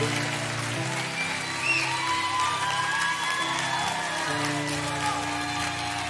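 A small indoor audience of about thirty-five people clapping at a church talk, sustained even applause with a few scattered whoops, moderately close.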